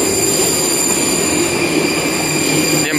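Prague metro train arriving at a station, a loud continuous rumble with high wheel squeal tones held throughout, close by and steady.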